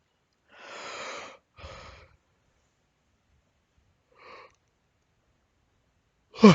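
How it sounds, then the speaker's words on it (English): A person gives a breathy, drawn-out yawn in two parts, then a short faint breath after a pause, close and quiet against silence. "Sorry, yawn attack."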